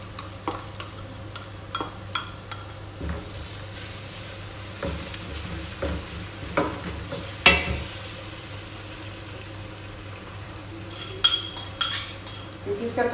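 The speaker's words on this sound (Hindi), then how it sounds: "अब इसके अंदर मैं हल्का सा फ्राई करने के लिए अदरक लहसुन का पेस्ट डाल दूँगी।" Ginger garlic paste fries in a pan with sautéed ingredients for chicken majboos, giving a low, steady sizzle broken by sharp clinks and scrapes of a utensil against the pan. No one speaks.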